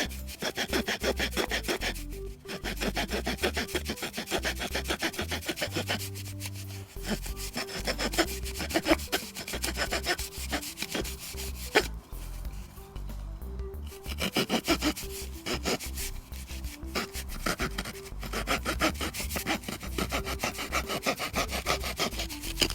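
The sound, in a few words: Victorinox Farmer pocket knife saw cutting through a wooden rod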